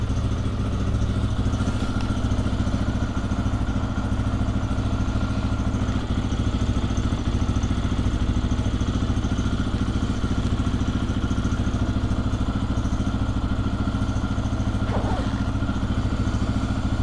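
A Lifan KPX 250 dual-sport motorcycle idles with a steady, close, loud single-cylinder chug and a faint mechanical clatter, continuous throughout without speech.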